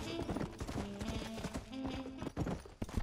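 Horse hooves clip-clop in a steady, close rhythm in the Xbox 360 video game Red Dead Redemption, with a game music bed playing underneath.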